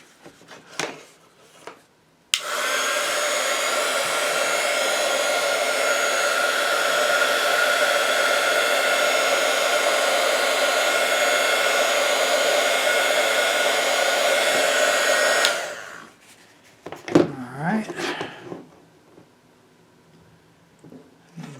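A heat shrink gun blows hot air onto tubing during the restoration of an antique Chelsea Radio Company Model 50 audio transformer, a loud steady roar lasting about thirteen seconds before cutting off, followed by faint handling sounds.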